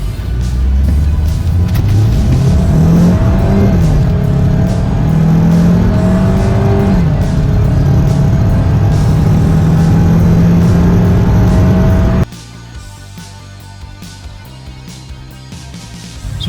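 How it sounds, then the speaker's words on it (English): A Jeep Compass 1.4 petrol MultiAir with an automatic gearbox pulls hard through a 0-100 run, its engine note climbing through rising shifts for about twelve seconds before the roar cuts to a quieter cabin hum. "What we're going to show you right now is a 0-100 run in drive mode"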